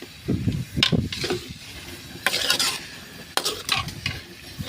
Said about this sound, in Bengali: আমগুলোকে দিয়ে এবার সুন্দর করে এভাবে নাড়তে হবে